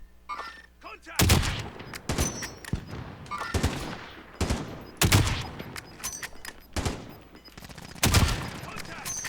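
Rapid bursts of gunfire in an online multiplayer shooter game, loud sharp volleys repeating in clusters over several seconds, with brief gaps between them.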